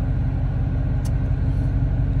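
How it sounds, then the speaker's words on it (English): A Dodge Challenger R/T with the 5.7 V8 rumbles loudly and close by, a deep, steady throaty engine drone with one brief higher click partway through. "I'm going to give y'all a couple of revs."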